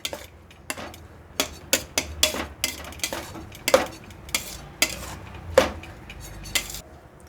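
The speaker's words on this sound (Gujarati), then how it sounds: "હવે આ છેલ્લે આપણે કોથમીર નાખી અને હલાવી લઈશું" Spoon stirring corn, capsicum, vegetables and freshly added coriander in a steel bowl, a run of sharp metallic clinks and scrapes at an uneven rhythm, close and alone.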